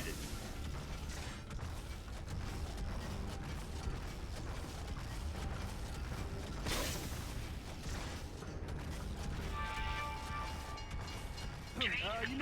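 Rumbling train approaching through a tunnel in Gears of War 3, a dense, loud mechanical roar with rattling and creaking metal that holds steady throughout, plus a brief bright burst midway and a rising squeal near the end.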